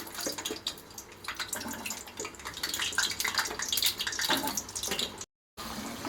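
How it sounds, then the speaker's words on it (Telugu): Indian gooseberries (amla) dropped into hot oil sizzle and hiss steadily, a close, continuous bubbling crackle with no talking, cut by a brief silent gap near the end. "ఈలోపు నూనె కూడా వేడెక్కింది ఉసిరికాయలు వేసేస్తున్నా"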